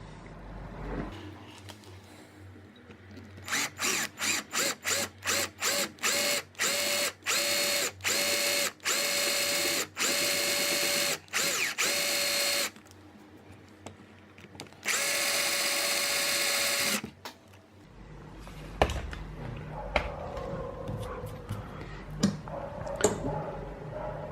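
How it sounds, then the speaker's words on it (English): A drill whirs in short repeated bursts, then runs in longer stretches, close and loud, boring out a lock plug with a bigger bit, before stopping into quieter handling noises. "now I'm going to use the bigger drill to drill the plug out"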